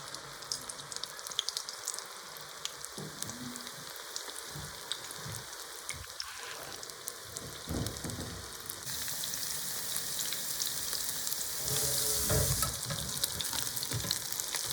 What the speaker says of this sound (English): Put the marinated soybeans into hot oil